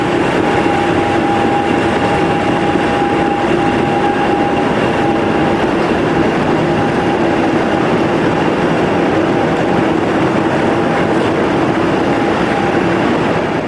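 A British Rail Class 50 diesel locomotive hauls a rail tour away from Bristol Temple Meads, its engine a steady, loud drone with a sustained tone and rumble that holds unbroken throughout.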